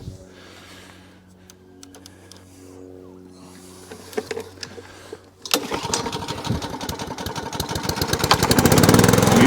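A Hayter Hayterette mower's small engine sputters and fails to catch, then roars to life with a loud rattling run that grows steadily louder.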